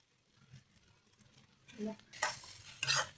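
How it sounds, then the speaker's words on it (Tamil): Tomatoes and onions being sautéed and stirred in a pan for a home-style chicken curry, soft utensil scrapes against the pan growing louder toward the end, close and quiet, with a faint voice in the background. "தக்காளி வெங்காயம் நல்லா வதங்கணும்."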